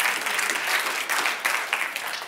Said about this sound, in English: Okay, you can applaud for that.